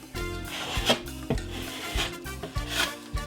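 A drywall patch is scraped with a blade to take off excess compound, giving close, gritty scraping strokes in a steady series of about five passes with light taps between them.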